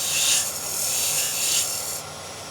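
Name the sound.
lathe tool cutting a chamfer on a wooden box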